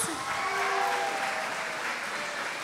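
An audience at an elementary school Christmas program applauds the music teacher, Mr. Owens, with even, sustained clapping that holds steady throughout.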